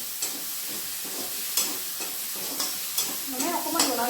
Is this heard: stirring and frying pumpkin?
yes